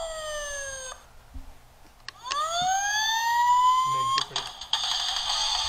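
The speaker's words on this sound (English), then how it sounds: "There's a siren." A PAW Patrol Marshall transforming toy fire truck sounds its electronic siren, a series of bright falling and rising wails with short clicks and beeps between them, loud and close.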